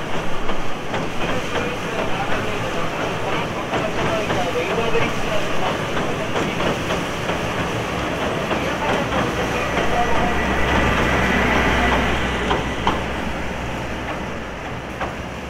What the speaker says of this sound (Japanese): なんか来たよ。 列車。